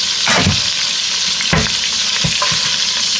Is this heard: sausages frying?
yes